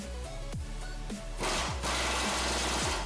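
Mechanical whirring with repeated downward-sweeping pulses, like a power tool tightening bolts to a truck frame while a rear bumper is installed on a 2017-2018 Ford F250/F350, in short bursts about half a second apart.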